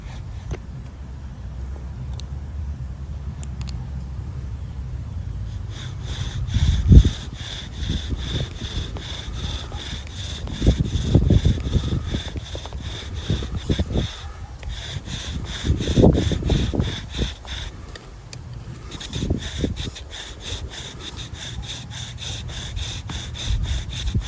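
A bow drill spins a Tree of Heaven spindle against a pine hearth board, with a Tree of Heaven bearing block, giving steady back-and-forth rasping friction strokes in rhythmic bursts, close and fairly loud, with no one speaking.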